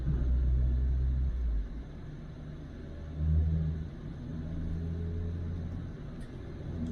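A right-hand-drive car climbs Austrian Alpine roads, its engine rumbling low and heavy, easing off, then swelling again as it accelerates through the corners, with no voices.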